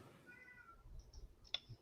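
A pet cat meows a few times indoors: short, faint, slightly drawn-out cries followed by a sharp little click, heard against quiet room noise.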